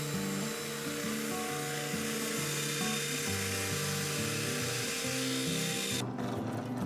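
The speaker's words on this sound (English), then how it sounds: "Next we cut the breadboard ends to length, and then cut the mortise." A power tool works through tough red oak to cut a mortise in a breadboard end for a farmhouse table, a steady grinding, rubbing drone that runs loud and continuous before stopping abruptly near the end.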